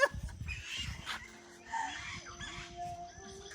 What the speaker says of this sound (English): we have chickens running around everywhere.